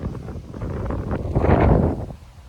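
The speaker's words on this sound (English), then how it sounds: "So windy, I apologize" Outdoor wind buffets a microphone in a steady low rumble that swells louder toward the middle and then eases off, with no other clear sounds.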